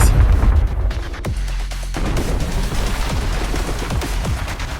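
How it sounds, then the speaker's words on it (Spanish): Explosions from the animated film BLAME! boom and crackle in a dense, loud, continuous barrage with sharp bursts throughout, no speech. "Kili y Sibo caen por las explosiones"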